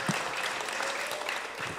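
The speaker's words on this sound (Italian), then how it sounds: "quindi facciamo a Francesca Carbonini un applauso" An Italian art event audience applauds a speaker, with steady, dense clapping that holds at an even level throughout the short stretch.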